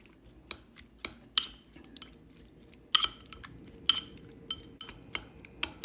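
Shrimp gets mixed with oil and cornstarch in a bowl, a utensil clinking sharply against the sides in an irregular series of close taps with soft wet stirring underneath.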